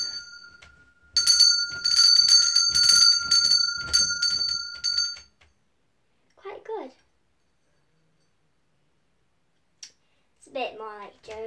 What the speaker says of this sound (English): A beautiful bell!